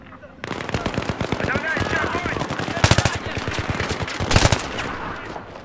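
Auto shotgun fire in the video game Battlefield 3, with a rapid, continuous string of close, punchy shots and louder bursts mixed with explosions and battle noise.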